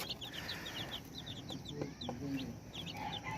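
Chicks in a brooder chirp continuously with high, rapid peeps, close and steady, over a low background murmur.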